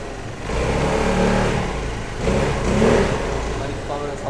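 A 300cc sports scooter idles indoors in a showroom, its engine running steadily with two swells of revving, close by and fairly loud, with a voice speaking over it.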